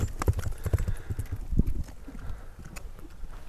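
Horse hooves clip-clop in a quick, uneven rhythm, close and fairly loud, from a horse used in ulak (kok-boru) horseback games, with the strikes thinning out toward the end.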